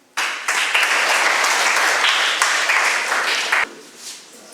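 Enthusiastic audience applause at a school Hindi elocution recitation, a dense burst of many hands clapping that starts abruptly, holds strong for about three seconds, then cuts off to a faint room tail.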